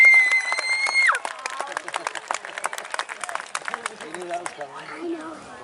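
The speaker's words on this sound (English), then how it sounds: "big cheering section" Speedway crowd at Lake Doucette Motor Speedway cheers and claps as a driver is introduced, a broad wash of applause and scattered whistles behind a public-address voice, with a shrill whistle tone at the start.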